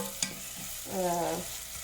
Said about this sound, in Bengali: এখন আমি এটা একটু ভেজে নিই মোটামুটি ভেজে নেব একদম ব্রাউন কালার করবো না